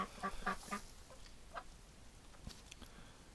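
A nesting duck gives a few quick quacking calls in a short cluster, followed by a couple more scattered calls, fairly faint over a soft background hiss.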